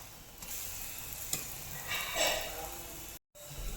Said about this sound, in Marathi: पलटी करून घ्यायची आणि लगेच तेल लावून घ्यायचं